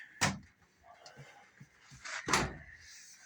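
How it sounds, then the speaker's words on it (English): The door of a Whirlpool dryer, model WED6400SW1, opens during a home repair, with two sharp clunks and rustling handling noises between them, close and moderately loud. "I need to open the door for that."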